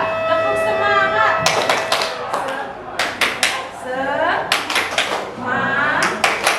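A group claps in rhythmic patterns for the 'tepuk semangat' icebreaker chant, with crisp clap bursts interleaved with voices calling out together.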